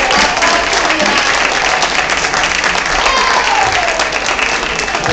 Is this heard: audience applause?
yes